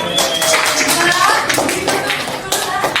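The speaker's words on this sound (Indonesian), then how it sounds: "tepuk tangan untuk kelompok" Classmates applaud a group after a classroom presentation, with scattered, uneven claps mixed with children's voices talking over them.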